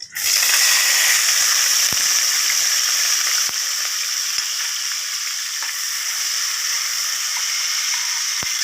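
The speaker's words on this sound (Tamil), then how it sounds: "முந்திரி லைட்டாக பொறிஞ்சிச்சு ஜீரகம் பொறிஞ்சிச்சு" Cashews and cumin seeds fry in hot oil, a loud, close and steady sizzle with a hiss that rises sharply at the start and holds evenly throughout, broken by a few faint taps.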